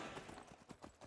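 A horse's hooves clip-clop at a quick, steady trot in Skyrim, a run of sharp, evenly spaced beats heard close and moderately quiet over a soft background wash.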